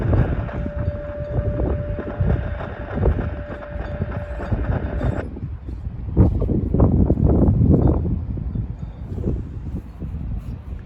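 CSX local freight U343, which hauls loaded trash cars to a dump, rumbles loudly on its way around a wye at Fostoria. A steady tone sits over heavy rolling noise for the first half, then the tone drops away, leaving uneven rumbling and clanks.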